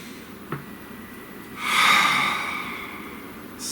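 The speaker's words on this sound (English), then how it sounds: "Please take a nice deep breath." A slow, deep inhalation rises near and close-miked, swelling for about two seconds before tapering off in a quiet room, preceded by a small click.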